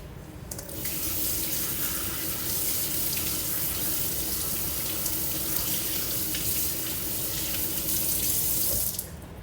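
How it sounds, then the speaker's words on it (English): Kitchen tap water pours steadily over vegetables being rinsed for a Greek horiatiki salad, a hissing stream that switches on, runs evenly for about eight seconds and then cuts off, with no talking. "I am going to rinse these off just to make sure I don't have any seeds left on them."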